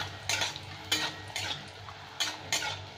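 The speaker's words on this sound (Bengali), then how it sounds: "এবার আমি বড়িগুলো ভেজে নিচ্ছি" Small moong dal bori frying in a mix of white and mustard oil over low heat, with sharp, brisk spatula stirs against the pan about every half second over a soft sizzle.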